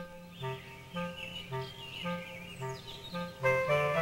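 Cartoon birds chirp and tweet in a bright, repeating pattern of short calls over gentle background music, with several chirps spaced through the scene.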